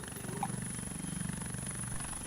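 Helicopter in the FlightGear flight simulator game, a continuous low rotor thump with steady rhythmic chopping and a high whine above it, fairly near and alone with no talk.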